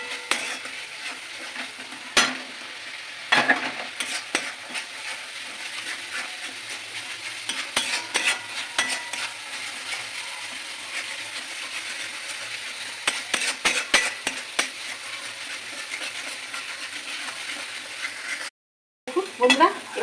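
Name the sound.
frying and stirring masala for chicken curry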